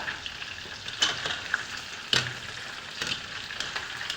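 Chicken frying in hot oil, a continuous close sizzle and crackle with occasional louder pops and stirring scrapes, and no speech.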